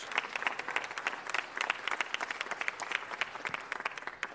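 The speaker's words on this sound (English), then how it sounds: "Let's give them a big round of applause." Audience at a city council meeting applauding honorees, a steady crackle of many hands at moderate loudness lasting several seconds without a clear break.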